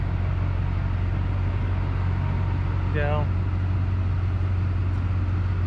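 A Duramax diesel truck engine runs steadily at idle outside a shop, a constant low drone that fills the whole stretch, with a single brief spoken word partway through.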